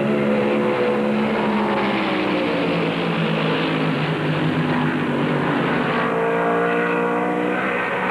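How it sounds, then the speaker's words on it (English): NASCAR stock cars, including a Mercury, roar around Darlington Raceway in the 1971 Southern 500, a loud continuous engine drone with rising and falling pitch sweeps as cars pass close by. "Isaac rides up against the fence in the third turn and fights off Allison's Mercury number 12"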